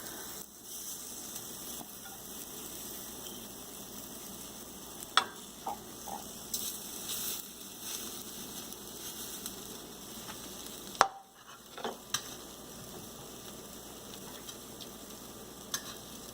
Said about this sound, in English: I'm going to put it in the pan and heat it up.